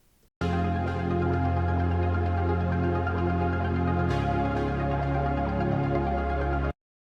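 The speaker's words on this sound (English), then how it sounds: "So that is basically a pad just with a lot of pluck." A bright synth pad with sharp plucked attacks plays sustained chords, shifting to a new chord midway before cutting off cleanly.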